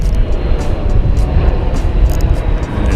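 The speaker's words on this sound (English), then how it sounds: "there's an airplane flying over me right now" A fixed-wing airplane passes overhead above a large river, a loud, steady broadband engine roar that fills the scene without letup.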